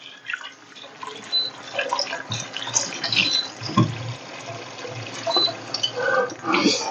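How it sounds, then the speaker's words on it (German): Tap water runs into a cooking pot in a home kitchen while making Czech potato soup, splashing and gurgling unevenly with a few clunks, fairly close and without speech. "ich werde jetzt hier mal eben Wasser reinmachen"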